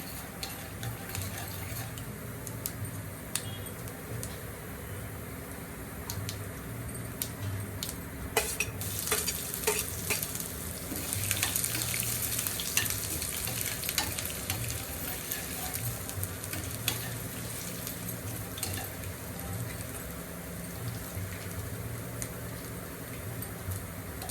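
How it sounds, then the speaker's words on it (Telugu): Whole spices and curry leaves sizzle softly in hot oil for a tamarind pulihora tempering, a steady quiet frying hiss with scattered crackles and light stirring clicks in a home kitchen. "ఇప్పుడైతే తాలింపు వేస్తున్నా"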